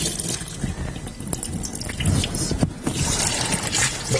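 Engine coolant drains from a removed hose in a steady liquid flow, with close dripping and splashing and a few sharp knocks over the running stream.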